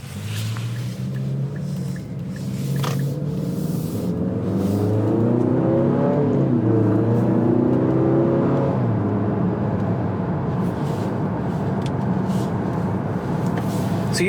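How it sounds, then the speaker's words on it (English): Engine of a 2025 Infiniti QX60 heard from inside the cabin while driving, a steady low hum that swells as it accelerates, then settles into an even drone with road noise. "So you have a little bit of engine noise"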